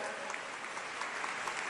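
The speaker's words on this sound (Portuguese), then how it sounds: "Pode aplaudir isso, porque essa é uma grande verdade." A congregation at a closing Mass claps together in a steady, wide wash of applause heard from a distance, even and sustained with no voices on top.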